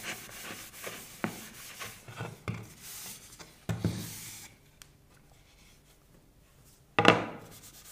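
Hand-sanding of a timber cheeseboard: uneven rubbing strokes of abrasive paper on wood, close and fairly loud, in bursts separated by pauses, with one sharp scrape near the end and no talking.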